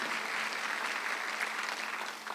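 A church congregation applauds during a Sunday worship service, a steady wash of clapping that holds at an even level for the whole stretch.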